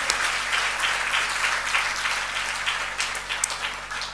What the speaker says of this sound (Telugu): సంతోషంగా ఉండి ఒకసారి చప్పట్లు కొడదాం